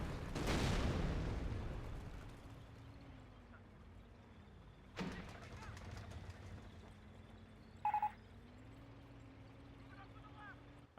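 Rocket barrage explosions in Company of Heroes, a heavy rumbling blast at the start, then a second sharp impact around midway and a brief clatter later, all over a steady low battlefield drone.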